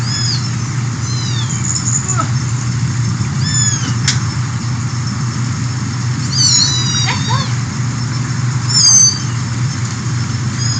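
Several cats at a humane society meow in short, rising and falling calls spread across the stretch, with a steady low hum and room noise underneath.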